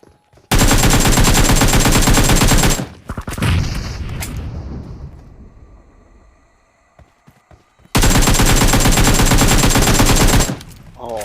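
Two long, loud bursts of automatic fire in PUBG Mobile come from a shooter behind a rock, separated by a quieter stretch of lingering rumble and small sounds.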